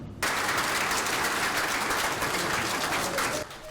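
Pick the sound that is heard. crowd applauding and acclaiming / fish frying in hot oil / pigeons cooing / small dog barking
crowd applauding and acclaiming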